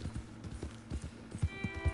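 Horse hooves clip-clop in Red Dead Redemption, a quiet, steady trotting rhythm of soft thuds repeating over two seconds with no talk.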